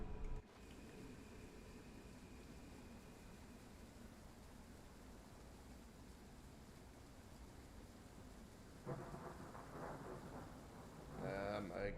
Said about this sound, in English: Hear that thunder coming